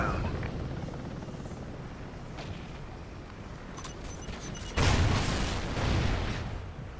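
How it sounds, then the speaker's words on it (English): Call of Duty Ghosts MI-24 helicopter, a steady low rotor rumble with distant booms throughout, growing louder and closer in the last two seconds. "MI-24 standing by. Friendly chopper inbound."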